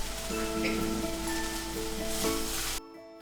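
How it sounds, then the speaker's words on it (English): Steady sizzling of urad dal, mustard seeds, asafoetida and green chilies in hot oil, a dense crackling hiss with faint pops, close and continuous before cutting off abruptly near the end. "Once that sizzles, in go the onions and the rest of the vegetables."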